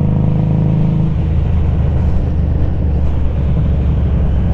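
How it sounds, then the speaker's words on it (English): Motorcycle with an aftermarket muffler rumbling steadily at close range, a deep throaty exhaust drone with heavy wind buffeting over it, no talking. "Hopefully you could hear that muffler."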